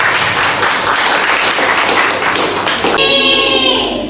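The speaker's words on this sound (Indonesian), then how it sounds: "Oke, beri aplaus pada teman-teman." Classroom of students applauding their classmates, a dense, loud burst of clapping for about three seconds that cuts off abruptly, followed by faint voices.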